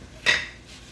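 Pieces of chicken go back into a pot of lemon butter caper sauce that has come to a boil, with one short metallic clatter of utensil against pot followed by a quiet fade.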